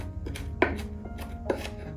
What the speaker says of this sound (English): I do enjoy the chopping process.